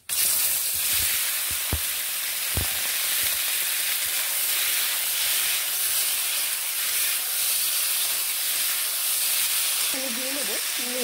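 Tomatoes drop into hot oil with tempering spices in a pan while making tomato chutney, giving a steady, loud frying hiss with a couple of soft knocks early on; a voice speaks briefly at the end.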